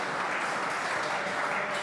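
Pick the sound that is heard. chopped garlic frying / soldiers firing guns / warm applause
warm applause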